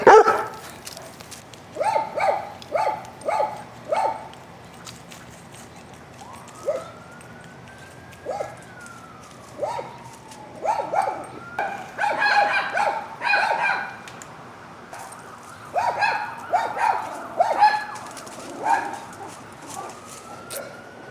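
Dogs bark in repeated bursts, some close and some farther off, while a siren wails intermittently in the background.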